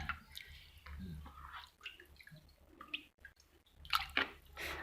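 Raw chicken liver washed by hand in a bowl of water, with soft close splashes, drips and squelching handling noises that come in irregular bursts and grow busier toward the end.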